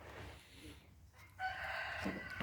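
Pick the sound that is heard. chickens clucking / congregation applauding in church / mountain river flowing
chickens clucking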